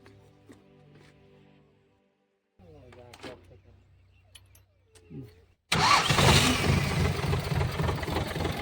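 Voices talk over quiet surroundings, then a tractor engine suddenly starts up and runs loud and steady close by.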